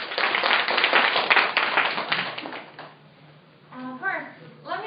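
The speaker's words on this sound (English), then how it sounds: "please welcome her with a big round of applause" A room full of people applauding a guest speaker at a class, brisk clapping for about three seconds that fades out, followed by a voice and a tonal sound.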